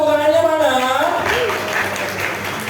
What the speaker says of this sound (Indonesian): Yang setuju tepuk tangannya mana?